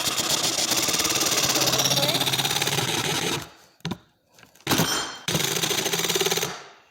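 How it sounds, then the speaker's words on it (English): A jigsaw with a Spyder double-sided blade cuts a 90-degree angle. Its loud, close motor buzz runs steadily, cuts out, sputters in short bursts, then roars back before stopping. "this is how you get 90-degree angles with a jigsaw"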